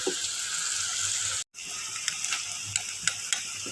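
Garlic and onion paste sizzles in a hot pan for bhuna khichuri, a loud, steady close frying hiss with stirring scrapes, broken by a brief silent gap before the sizzle resumes.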